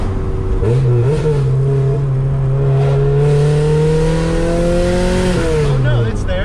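A Honda Civic engine revs up and holds a climbing, buzzy tone without any VTEC crossover, then drops back, loud and close with a rising pitch sweep.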